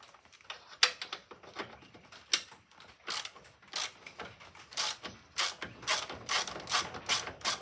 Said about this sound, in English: We're going to loosen up this other bottom bolt down here.